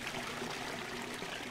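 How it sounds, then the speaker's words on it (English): A toilet flushes in the video game Max Payne, a steady rushing, trickling wash of water filling the short stretch without pause. "Can I flush this?"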